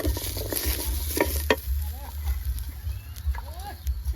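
Shallots, garlic, galangal and kaffir lime leaves dry-roasting in a pan, a close crackling sizzle with stirring scrapes, while someone talks over it.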